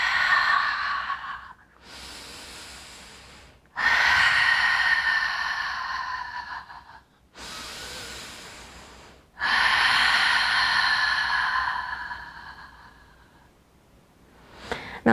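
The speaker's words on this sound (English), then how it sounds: "3 long breaths, exhaling through the mouth." Three long, audible exhalations through the mouth during a beginner yoga session, each a sustained breathy rush lasting a few seconds, separated by quieter inhales, close and clear with no talking.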